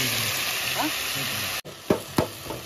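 Tomatoes sizzle in a pan over a village cooking fire, a steady frying hiss with a few louder stirring scrapes near the end, with voices talking over it.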